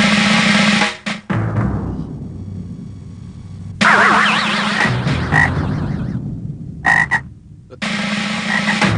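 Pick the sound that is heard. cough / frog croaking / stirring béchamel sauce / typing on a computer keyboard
frog croaking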